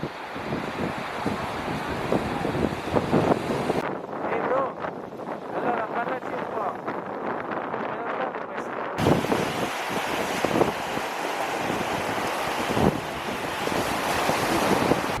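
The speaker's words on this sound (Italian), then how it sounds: "c'è ancora un po' di vento" Strong wind buffets the microphone over the steady roar of surf breaking on the shore at Skagen, Denmark. The gusts drop off briefly midway, then return.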